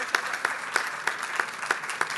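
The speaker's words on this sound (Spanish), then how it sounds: "Ahora dejamos correr un poquito el aplauso." Audience applause after remarks at a public question session, a steady wash of clapping with regularly spaced louder bursts, moderately distant and continuous across the short stretch without speech.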